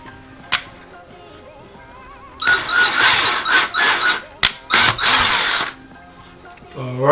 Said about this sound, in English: Alright, so the hole is drilled.